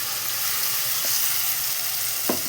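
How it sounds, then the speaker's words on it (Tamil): Tomato and onion sauté with curry leaves in a pan for prawn curry, giving a loud, continuous sizzle with a couple of faint stirring knocks and no talk. "பச்சை நாத்தம் போகிற வரைக்கும் வதக்கணும்"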